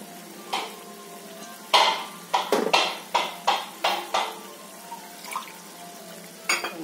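Water poured into a pan holding cashew paste for restaurant-style paneer methi chaman, followed by a run of short stirring and scraping strokes in a steady rhythm, close and moderately loud, with no voices.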